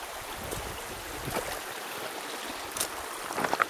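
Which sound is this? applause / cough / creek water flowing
creek water flowing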